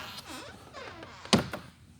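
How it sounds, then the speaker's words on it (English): A travel trailer door, a 2021 Sol Rover Eclipse 7 x 11, meets its magnetic catch with a sharp thunk, followed by a softer tap, close and fairly faint against quiet outdoor background. "Back here, you have a magnet to hold your door open."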